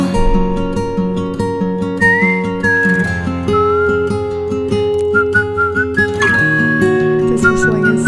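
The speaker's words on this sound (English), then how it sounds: "This whistling is such a perfect touch on top of it." Melodic whistling carries a tune over a steady musical backing of sustained tones in a K-pop song, bright and clear above the accompaniment.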